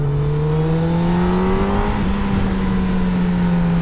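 A Honda CB1000R Black Edition motorcycle engine with stock exhaust accelerates, its tone climbing steadily and then dipping briefly as it shifts, loud and close throughout.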